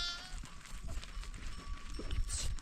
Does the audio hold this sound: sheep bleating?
yes